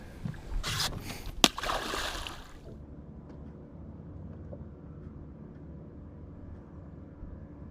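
A brief splashing burst with a sharp slap as a caught zander is released into the water, then quiet low rumbling outdoor ambience.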